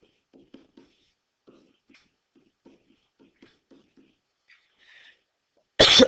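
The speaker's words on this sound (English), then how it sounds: "I coughed right into that" A single sharp cough bursts out close and loud at the very end, after a stretch of faint, scattered soft sounds in a quiet room.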